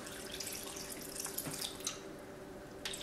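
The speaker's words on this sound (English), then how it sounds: "Water, we're gonna put plenty of water in there" Water pours steadily into a blender jar while a smoothie with eggshell is made, a continuous close splashing stream with a few brief spattering bursts.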